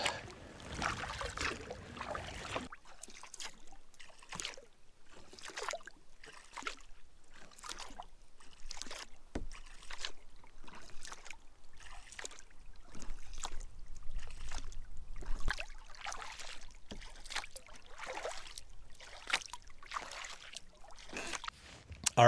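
A solo kayak paddled on a quiet lake in Algonquin Park, with rhythmic paddle strokes and soft water splashes repeating steadily, close and fairly faint.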